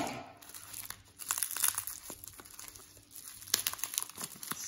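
A parcel of vintage perfumes from France is unwrapped close by, with soft packaging crinkling and tearing in irregular bursts, fairly quiet and with no one speaking.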